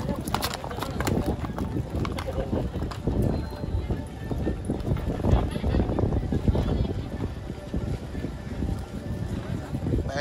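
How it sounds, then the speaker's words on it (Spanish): Horses clip-clop past with riders in a patronal festival procession in Alaquines, San Luis Potosí, steady hoofbeats under crowd noise, wind buffeting and people talking nearby. "La raza que viene montando a caballo"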